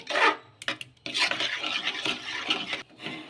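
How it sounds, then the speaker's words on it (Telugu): Rumali paratha dough being stirred and scraped in a pan, close rasping and rubbing strokes in uneven bursts with brief pauses between. "ఇలా ఈ విధంగా బాగా కలుపుకుంటూ ఉండాలి లేదంటే మనకు ఉండలుండలుగా కట్టేస్తుంది"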